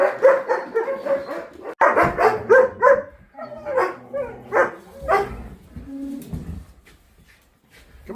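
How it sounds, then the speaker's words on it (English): Several dogs barking in rapid, overlapping bursts nearby, loud and irregular, tapering off toward the end. "Hey, there's all the other dogs."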